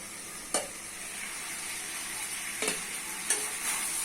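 Ash gourd and potato stir-fried in a pan, a steady soft sizzle with a few sharp spoon scrapes standing out, no voices.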